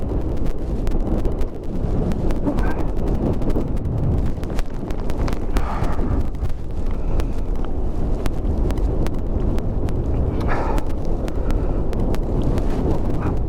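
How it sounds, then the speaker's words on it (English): Strong wind from a snow storm at a stop called Flokested buffets the microphone in a continuous loud roar, with gusty rumbling and occasional crackles throughout. "is this windy"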